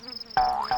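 Bees buzz in the video game The Visitor, a short, close, droning buzz that swells abruptly and wavers in pitch for under a second.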